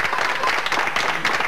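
Brief, dense applause from an audience at a 1982 gathering about the opening of the Gibraltar frontier, an even wash of many hands clapping at once.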